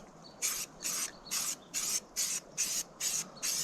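Short bursts from a spray can laying a very light tack coat on a van outdoors in some wind, eight evenly spaced hissing passes, close and fairly loud, with brief gaps between them.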